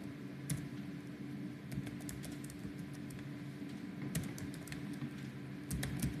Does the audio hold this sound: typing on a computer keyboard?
yes